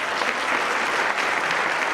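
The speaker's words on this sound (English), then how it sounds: "So let's give them a round of applause." Steady, dense applause from a gala audience saluting a logistics sponsor at a trucking industry awards event, a continuous wash of clapping at even loudness throughout.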